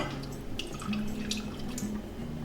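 Water runs and trickles steadily into a pot with sugar for a glaze, a soft continuous pour with light splashing, close by and without talk.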